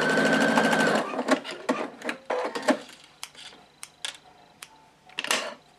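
Sewing machine sewing log cabin quilt strips, a brief run of fast stitching at the start, then scattered clicks, taps and fabric handling sounds close by.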